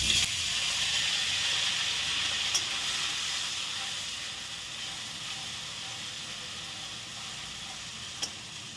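Drained, soaked mung dal hits hot oil with a loud, broad hiss that holds steady and slowly eases off, broken by a couple of faint clinks and no voices.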